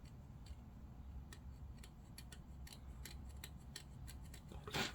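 Scissors trimming excess plastic from a Land Raider Spartan model kit part during Lascannon assembly, several short crisp snips scattered through a quiet room, with a louder cluster of handling noise at the end.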